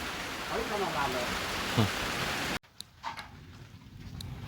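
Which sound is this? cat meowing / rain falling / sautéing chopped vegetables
rain falling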